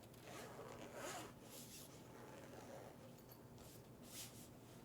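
A zipper on a Tunisian crochet hook set case is pulled open in one continuous, quiet rasping run, close by with no talking.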